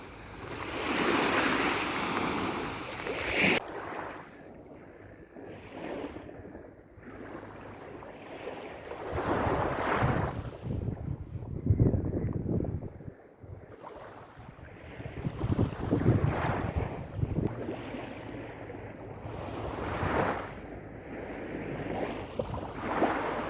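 Black Sea waves wash onto the shore at Odesa in slow repeating surges, each swell rising and receding, with gusty wind buffeting close by and a loud burst of wind noise at the start.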